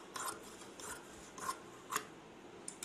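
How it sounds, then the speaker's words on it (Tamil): Scissors snip through fabric along a marked line while making a hair band, four or five short crisp close cuts spaced about half a second apart, fairly quiet with no talking. "இப்போது இதையே அப்படியே கட் பண்ணிக்கலாம்."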